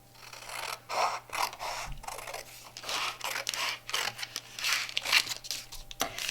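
Scissors cutting a tree shape out of paper for a winter craft, close repeated snips and crisp paper rustling in an uneven rhythm, alone without talk, over a faint steady hum.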